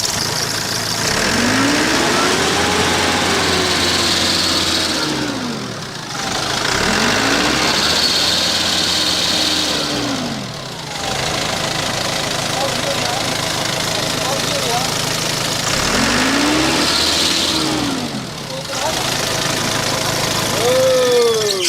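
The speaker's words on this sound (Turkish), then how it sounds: "Motorun çalışması nasıl usta?" A car engine idles loudly in a repair shop after its throttle cable has been replaced, and it is revved up and back down in three long cycles while people talk nearby.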